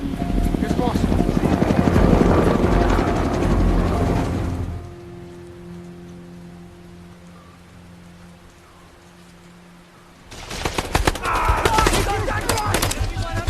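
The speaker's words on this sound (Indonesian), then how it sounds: "helikopter yang akan memasok amunisi tersebut ditembaki oleh musuh." Helicopters come under heavy machine gun fire in a war film scene: loud rotor chop and dense rattling gunfire, a quieter stretch of low droning tones in the middle, then the intense barrage returns.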